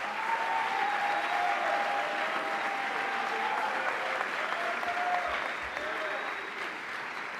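An indoor audience at a Boys State opening ceremony applauds steadily for several seconds, a dense even wash of clapping that eases slightly toward the end, with a faint tone sounding under it.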